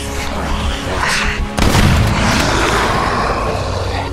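Gunfire in the survival horror game Daymare 1998 ends in a sudden loud blast partway through, followed by rumbling noise and scattered crackle.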